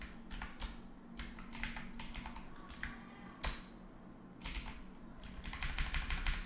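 Keys clacking on a computer keyboard while a command is typed to install a Laravel project with MySQL; bursts of close, crisp keystrokes in uneven runs with short pauses between them.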